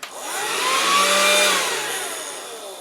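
Small handheld vacuum cleaner whirring steadily at close range, a continuous high motor whine with shifting tones that holds for the whole stretch with no talk.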